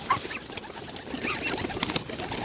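Pigeons close by during a feeding of geese and goslings, with soft cooing and scattered bird calls in brief irregular bursts over a quiet outdoor background.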